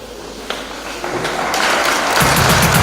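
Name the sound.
school audience clapping hands to welcome a speaker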